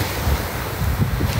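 Ocean waves at a beach, a steady, loud wash of surf mixed with heavy wind rumble against the microphone, continuous and close.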